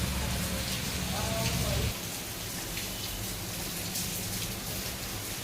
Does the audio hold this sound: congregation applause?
no